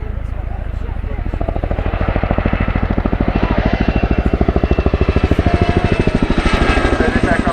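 An RAF Boeing Chinook twin-rotor helicopter displaying at the Cosford airshow, loud steady rapid rotor thudding with a roaring engine wash, a commentator speaking over it.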